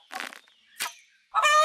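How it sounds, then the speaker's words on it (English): Chickens in the video game Winds of Valen give a few short honking, squawking calls, three brief bursts with the last rising into a harsh, tonal cluck. "That was a very chicken noise."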